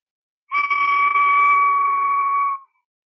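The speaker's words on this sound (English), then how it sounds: "This is just Albany slip brown on porcelain, and he is a death whistle." A ceramic death whistle of porcelain with Albany slip brown is blown once, giving a loud, steady shrill tone with a breathy rasp that holds for about two seconds and then cuts off, alone and close.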